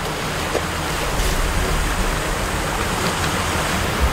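Strong waves crash against the rocky island of Dokgodo during wild seaweed harvesting, a loud continuous roar of surf and churning water with no voices.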